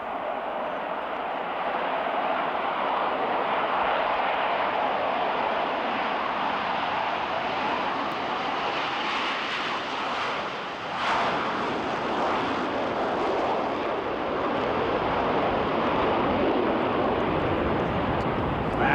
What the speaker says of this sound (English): Off brakes now, burners ready now, and the Blue Angel Diamond is rolling.